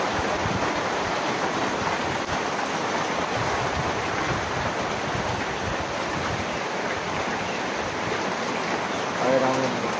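Rain falls in a steady, dense hiss around a home, an even wash of noise that holds for the whole stretch with little change, with a faint tonal hum near the end.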